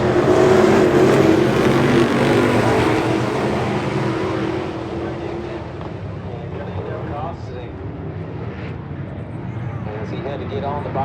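Race cars roar around the dirt oval at Brownstown Speedway, a loud engine drone that fades as the pack passes into the distance, with an announcer calling the action over it.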